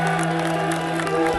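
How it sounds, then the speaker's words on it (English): A banquet audience at a scholar-athlete awards event applauds a college football finalist with a brief, steady burst of clapping over a low room hum. "Let's give a round of applause for Henny."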